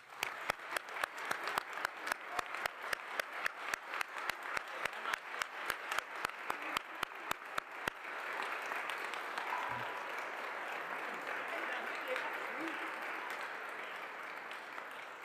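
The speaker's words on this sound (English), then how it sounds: "I think we need a round of applause for you." An audience at a Canadian Space Agency astronaut event breaks into applause, starting with rhythmic unison clapping for about eight seconds before dissolving into dense, sustained clapping from a large crowd, moderately distant.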